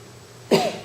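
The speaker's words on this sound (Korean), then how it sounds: "갑자기 기침이 나오네." A single short cough, close and fairly loud, breaking an otherwise quiet room.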